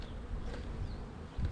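Honeybees buzz continuously from a package just shipped for installation into a hive, a close, steady droning hum with no talking.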